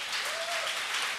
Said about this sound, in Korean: 우리 한번 박수 한번 올려드릴까요?